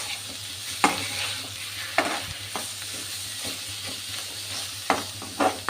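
Banana stem (thor) frying in a pan with garlic, ginger and spices, giving a steady sizzle with several sharp stirring scrapes at intervals.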